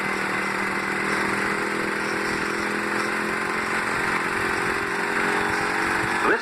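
A motorcycle engine drones steadily and fairly close as the rider accelerates smoothly through a turn in traffic, with a constant buzzing tone and no speech.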